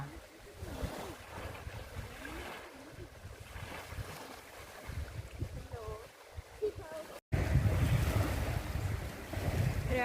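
Sea waves wash along a beach in Cyprus under gusty wind buffeting the microphone on a walk by the shore, the surf roaring louder near the end; voices talk over it at times.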